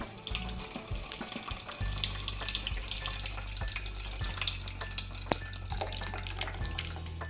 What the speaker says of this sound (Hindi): ऐसा अच्छी तरीके से पानी को निकाल लेंगे।